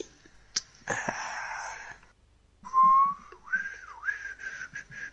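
Someone attempts to whistle: breathy airy blowing at first, then after a pause a thin wavering tone that breaks and slides, weak and unsteady.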